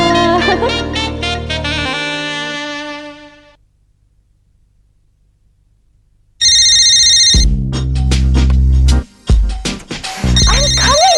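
A telephone rings loudly in a Hindi comedy TV serial, a repeating electronic ringtone that plays, fades into near silence and then bursts back in with harsh, tonal rings.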